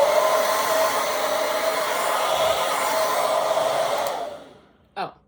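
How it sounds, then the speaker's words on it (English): A handheld hair dryer blows hair dry with a loud, steady whooshing roar close by. It cuts off near the end, followed by a brief rattling click. "so we're just gonna blow dry it."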